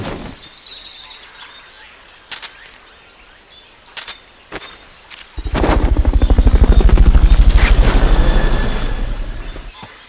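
Sparse clicks and beeps give way to a loud, steady whirring rotor drone that rises in, holds, and fades slightly, a synthesized helicopter in Metal Gear Solid: Peace Walker.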